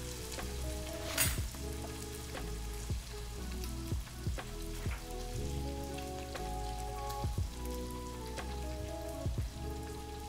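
Garlic sizzles and crackles steadily in a hot pan while cooking at home, with soft clinks and stirring taps, and quiet music plays underneath throughout.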